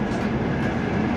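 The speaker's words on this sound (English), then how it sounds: "On the choo-choo train." Rolling rumble of a passenger train car in motion, a steady close, loud clatter filling the short moment with no voices.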